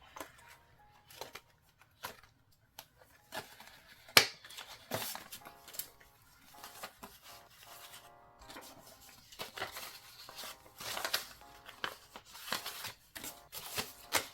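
Cash bills from a savings challenge envelope being handled and counted, giving a steady run of quick papery flicks and rustles, close and fairly faint, with no talking.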